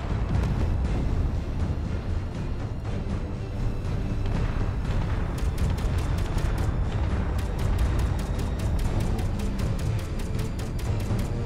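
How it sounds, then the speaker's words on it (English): Incoming missiles and torpedoes explode in the space combat game Space Engineers, producing a dense rumbling roar with repeated sharp crackling bursts, loud and continuous throughout. "See many explosions."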